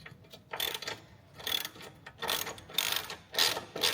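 A ratchet wrench clicks in short, fast bursts with brief pauses while the end nut is backed off the upper control arm bolt on a Tesla Model X, close and fairly loud.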